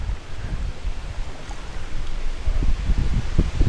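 Strong wind blows across a remote bass pond before a thunderstorm, giving a steady low rumble of gusts buffeting the microphone, with faint water splashing, no talk.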